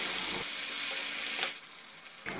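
Green chillies, onion and tomato frying in a pan make a loud, steady sizzle that drops off abruptly partway through, then flares briefly again at the end.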